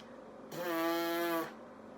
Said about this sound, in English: the way that I make vibration is by buzzing my lips like this